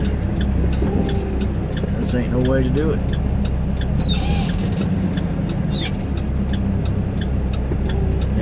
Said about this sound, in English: you gotta gas this thing and hope for the best.